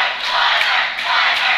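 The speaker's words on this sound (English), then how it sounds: "it looks like about 242 fans in the crowd because everybody is cheering" Crowd cheering at a collegiate powerlifting meet, a loud, dense, continuous roar of voices and yelling filling the hall without a break.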